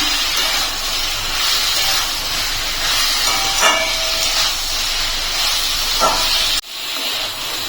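Fried bitter gourd and boiled potato sauté with spices in a pan, giving a loud, continuous hissing sizzle up close that drops sharply near the end.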